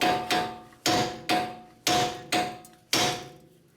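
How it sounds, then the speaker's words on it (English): A hammer taps on the steering knuckle of a Nissan Murano to free the outer tie rod end, seven sharp metallic strikes in an uneven rhythm, each ringing briefly before the next. "I'm gonna tap on the steering knuckle over here, just gently."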